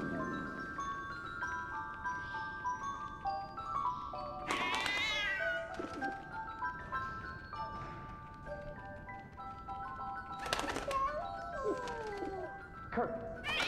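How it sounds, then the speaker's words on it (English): Cat meows repeatedly inside the video game 11-11: Memories Retold, several drawn-out plaintive cries rising and falling over a steady ambient bed of music and background game sound. "Why is that cat meowing?"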